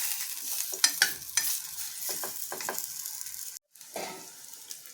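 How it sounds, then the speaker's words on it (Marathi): Litti, Bihari baked wheat dough balls, being turned and roasted in a covered pan, with soft scraping and stirring knocks, a faint sizzle, and a brief lid-like clatter near the end. "पाच पाच मिनिटात आपण यांना उलटा पालटा करून घ्यायचा आहे दोघं बाजूने छान चौफेर छान शेकून घ्यायचं यांना"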